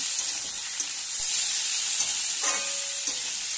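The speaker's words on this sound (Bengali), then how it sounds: "এবার বন্ধুরা টমেটো কুচানো দিয়ে দিলাম, দিয়ে ভালো করে একসঙ্গে ভেজে নিচ্ছি।" Chopped tomato frying in a pan for a tangra fish curry gives a steady, close hiss with a few soft stirring scrapes and no talk.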